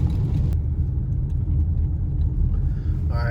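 A car drives along a road ahead of an approaching storm, giving a steady, loud low rumble of road and engine noise that holds without a break and with no talking.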